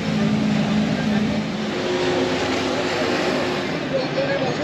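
Steady droning engine rumble of a wooden water bus boat with water noise, continuous and fairly loud throughout, no talking.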